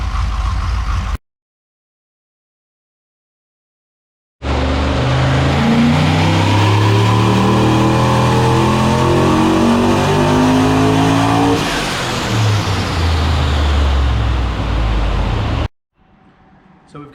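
A Holden VE Senator with a turbocharged 404ci LS2 V8 runs on a hub dyno, the engine loud and close as it climbs steadily through the revs, then falls back before cutting off, with silence near the start.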